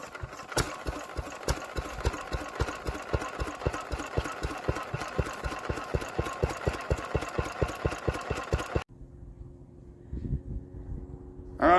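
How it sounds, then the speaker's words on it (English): An old carbureted engine from the 1940s to 1970s runs with a rapid, steady, loud firing rhythm just after fueling, then cuts off abruptly near the end, leaving quiet background and a brief clatter. "we'll put some fuel into this carb and see if we can get this whole thing to fire off"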